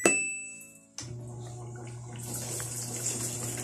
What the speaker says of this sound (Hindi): देखें, स्टार्ट करते ही इसके अंदर पानी आना शुरू हो गया।